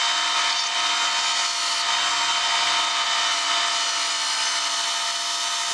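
Belt sander fitted with a 60 grit belt grinding an old putty knife in a home shop, a steady loud broadband abrasive roar that continues unbroken throughout.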